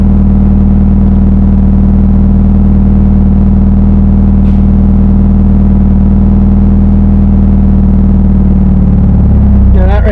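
A stick-shift car engine idles with a loud, steady low rumble from inside the cabin as the clutch is let up slowly, the tone wavering and dipping near the end.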